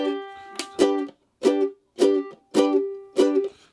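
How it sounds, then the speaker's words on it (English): Guitar chords are strummed repeatedly in short, choppy bursts, each one muted right away as the fretting-hand fingers lift off the strings. "take your left-handed fingers and just lift them up so it'll do that to the strings."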